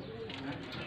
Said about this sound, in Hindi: टॉप क्लास के कबूतर हैं ये वाले